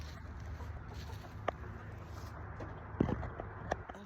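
Silkie roosters clucking softly nearby in a few short, scattered calls over a low background hum, with a couple of louder clucks toward the end.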